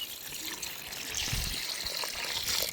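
Goat meat bones with a little fat are rinsed lightly in water, giving a close, steady trickling and sloshing with soft splashes, no talk over it.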